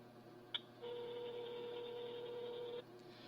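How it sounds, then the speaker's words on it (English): Telephone keypad dialing a phone number: a short sharp beep, then a steady dual-tone signal holding for about two seconds before cutting off, clear and close over a faint background hum. "Try to get him on his personal phone number here"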